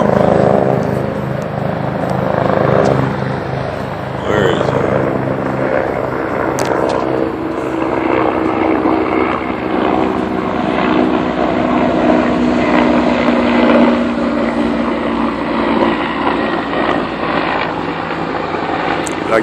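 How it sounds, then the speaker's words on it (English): A helicopter drones steadily overhead, a continuous loud rotor and engine hum filling the scene for the whole stretch. "Fucking helicopter, let's get that on film."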